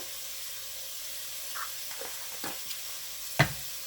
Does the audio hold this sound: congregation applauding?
no